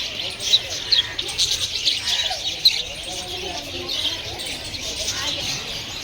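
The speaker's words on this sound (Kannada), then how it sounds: "ಲವ್ ಬರ್ಡ್ಸ್ ಥರ ಇದೆ ನೋಡಿ." Lovebirds in a zoo enclosure keep up a dense, high twittering chatter with scattered sharper chirps, mixed with other bird calls while people talk nearby.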